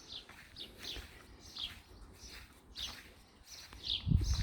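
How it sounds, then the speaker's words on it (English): Birds chirp and tweet repeatedly in short bright phrases, moderately distant in a quiet outdoor setting, with a soft thump near the end. "All you can hear is the birds."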